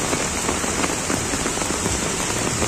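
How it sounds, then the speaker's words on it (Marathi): Heavy rain pours steadily in Virar, a dense, constant hiss of drops on hard surfaces, loud and unbroken throughout. "इकडे पावसाचा जोर कायम आहे."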